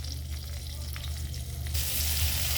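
Pointed gourds fry in a pan with a steady, close sizzle of hot oil, broadening and growing slightly louder partway through, with no voices.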